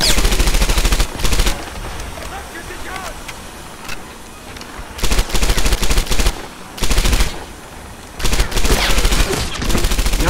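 An MG42 machine gun in the Medal of Honor Airborne Der Flakturm mission fires several loud, rapid bursts separated by short pauses, with a lower rumble of background noise between them.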